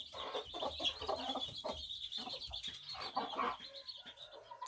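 Mother hens and young chicks foraging and scratching on a floor, giving soft overlapping clucks and thin high peeps at close range, fairly quiet throughout.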